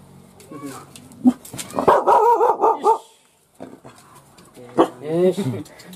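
A dog in a kennel barks and yips in short bursts, close and fairly loud, with whimpering between barks as someone talks nearby.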